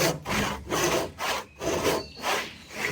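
A saw cuts a wooden tenon joint in steady, rhythmic back-and-forth strokes, about six loud, close, rasping passes with brief pauses between them.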